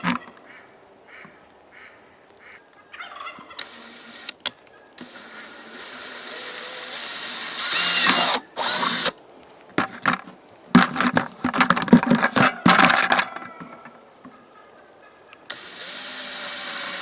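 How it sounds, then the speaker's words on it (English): A power drill bores holes into a plastic bucket in repeated bursts, whirring and grinding loudly near at hand, each burst broken by short pauses and clicks. "So now we want to drill our holes"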